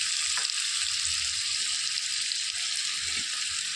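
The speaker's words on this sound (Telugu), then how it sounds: "త్వరగా వేయించేసుకోవాలి." Sliced onion, curry leaves and green chillies frying in hot oil for a rajma curry: a continuous, even sizzle at close range with a few faint stirring knocks, no voices.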